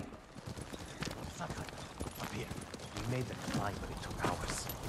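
Horse hooves clip-clop at a steady gallop in Ghost of Tsushima, fairly close, with voices talking over them.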